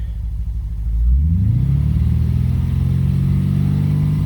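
A Lexus IS F engine at operating temperature idles, then revs up smoothly to around 3,000 RPM and holds there with a loud, steady, close drone.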